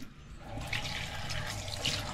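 A strong, steady rush of water flows through a plumbing line just cleared of a clog at a water seal, a close continuous splashing hiss with no speech.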